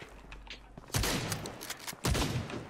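Gunfire in a battle royale video game comes as two sharp, loud bursts of rapid shots about a second apart, with quieter ambient game sound between them.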